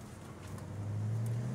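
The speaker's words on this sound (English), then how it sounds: "Clutch is very easy. Just roll it out. You don't even need to give it gas." A 1993 Ford Mustang Cobra pulls away gently in first gear, its engine a steady low hum that rises slightly in pitch and loudness as the car rolls off without throttle.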